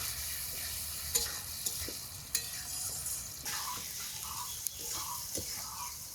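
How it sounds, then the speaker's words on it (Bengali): Ground cumin paste being stirred and fried with a curry in a wok for a home-style fish curry: soft continuous sizzle with scattered scraping strokes and clicks of the spoon, fairly quiet and close. "এখন নেড়ে চেড়ে কষিয়ে নেব"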